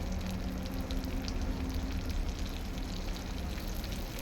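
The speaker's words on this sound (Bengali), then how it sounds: "গোটা জিরা দিলাম, একটু ভাজা হোক, বেশি হবে না।" Whole cumin seeds and green chilies frying in hot oil over a clay stove produce a faint, steady crackling sizzle with scattered pops, continuing evenly without talk.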